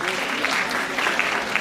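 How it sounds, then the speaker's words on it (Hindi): Audience applause fills a hall at an annual conclave, a dense steady patter of many hands clapping close by, with a speaking voice faintly mixed in. "Gen Alpha के लिए ताली बजाओ please everyone."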